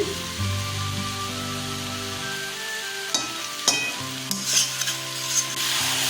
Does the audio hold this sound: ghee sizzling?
yes